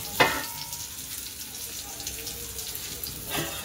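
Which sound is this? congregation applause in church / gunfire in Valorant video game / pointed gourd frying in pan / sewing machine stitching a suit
pointed gourd frying in pan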